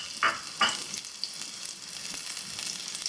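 Onion and green chili hit hot oil in a kadai with two quick loud sizzling bursts, then a steady close frying hiss with light stirring and no talking.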